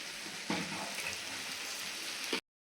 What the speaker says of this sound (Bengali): দিয়ে দিচ্ছি জল এখন একটু